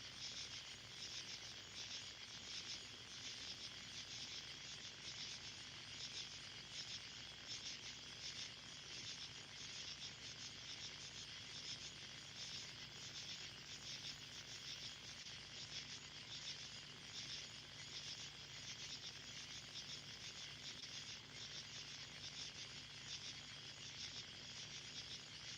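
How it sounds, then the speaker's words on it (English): Crickets chirp steadily at night near a farm with barns and pastureland, a dense continuous insect chorus holding even loudness throughout with no voices. "Listen to my blessed crickets."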